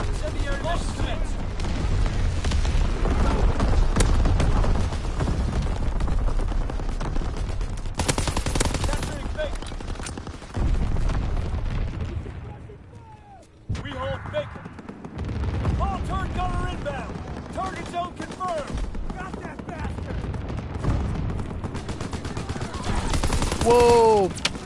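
Anti-aircraft salvo and gunfire in the World War II shooter Call of Duty WWII, a loud sustained barrage of bursts and booms that dips briefly mid-way and then resumes, with voices talking over it.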